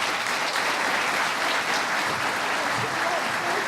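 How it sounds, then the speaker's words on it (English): Steady, loud applause from an audience at a congressional debate, a dense unbroken roar of clapping that holds evenly throughout. "So you can all applaud, trust me, trust me."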